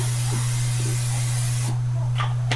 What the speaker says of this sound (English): spray my mini deluxe muffin pan with non-cooking spray